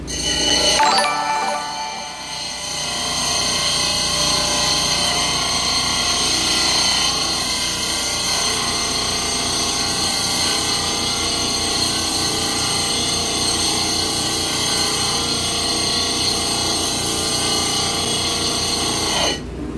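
A steady, loud mechanical whine of a lapidary machine sanding a gemstone for a knife handle, running continuously with bright high-pitched tones throughout.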